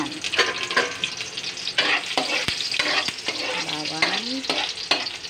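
Garlic sizzles in a hot pan for sopas, a steady close frying crackle broken by scraping stirs, with a brief tonal squeak from the utensil partway through.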